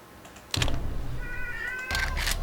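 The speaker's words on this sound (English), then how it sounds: "There goes Joe again meowing." A cat meows indoors, a clear tonal cry standing out over light keyboard typing and clicks, close and moderately loud, with a second burst of clatter near the end.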